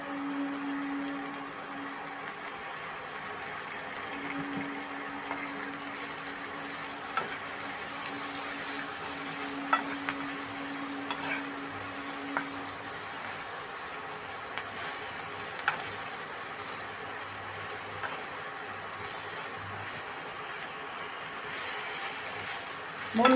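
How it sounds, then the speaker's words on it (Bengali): Eggplant fries in oil in a wok, giving a constant close sizzle broken by occasional sharp clicks and scrapes of stirring. "আবার আমি বেগুনটা আস্তে আস্তে ভেজে নিয়ে আসছি"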